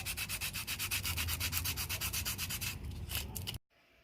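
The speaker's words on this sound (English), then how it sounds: "he just finished sanding this by hand" A wooden sign is sanded by hand with quick, even back-and-forth strokes, a close, dry rhythmic scratching that carries on for over three seconds before stopping abruptly.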